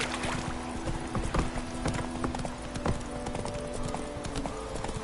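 Roach, Geralt's horse in The Witcher 3, trots with steady clip-clop hoofbeats close by, a low sustained musical drone running beneath the footfalls for the whole stretch.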